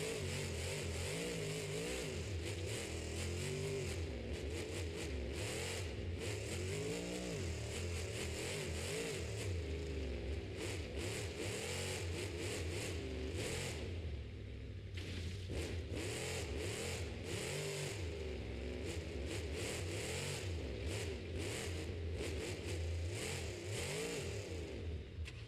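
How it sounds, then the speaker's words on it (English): A monster truck engine at a Monster Jam show in New Orleans roars and revs hard while crushing cars, a loud, continuous rumble with pulsing throttle surges throughout. "gonna start off by crushing cars"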